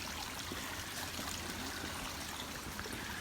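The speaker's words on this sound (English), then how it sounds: "We've come to Moccasin Creek. Really pretty and really slippery." Moccasin Creek on a wooded Florida trail at Eglin flows in a steady broadband rush and trickle, close and continuous with no voices.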